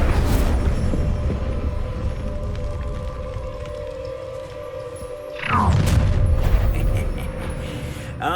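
Incendio fire spell cast in the Hogwarts Legacy game, a low rumbling roar with a steady tonal hum, then a sudden whooshing burst of flame that swells louder near the end.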